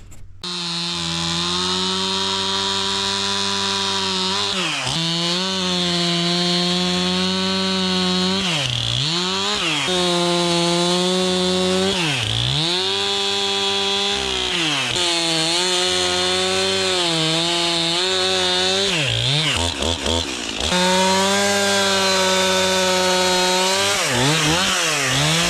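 Chainsaw making the last big cuts through a 300-year-old oak: a loud, close, continuous engine whine that dips and recovers repeatedly as the chain bites into the wood.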